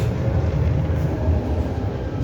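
Marmaray commuter train heard from inside a carriage, a steady low rumble of running wheels and motors that carries on without a break from start to finish, with no voices.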